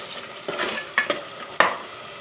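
Masala fries in oil in a pan for a mutton curry, giving a soft sizzle under several sharp clinks and scrapes of a stirring spoon, close by.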